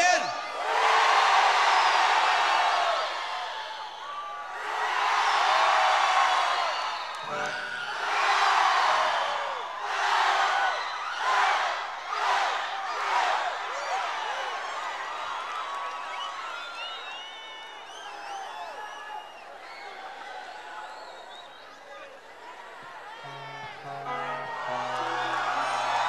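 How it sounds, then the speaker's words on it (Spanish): Concert crowd at a show cheering, whooping and clapping in loud swelling waves that fade into scattered claps and shouts. "Esas palmas, amigos."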